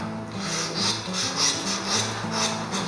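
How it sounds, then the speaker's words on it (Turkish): A toy plastic saw is dragged through a Barbie doll's hair as a comb, giving a close, steady rasping rub in repeated back-and-forth strokes with no talk. "Aa, bu testereyi tarak olarak kullanabilir miyiz?"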